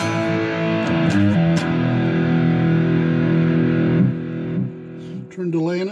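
Electric guitar played through a Spark amplifier set to high gain with reverb turned up, sustained distorted chords and notes ringing steadily throughout at loud level.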